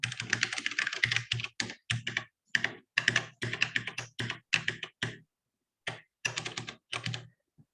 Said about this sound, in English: now I need to type in a tiny thing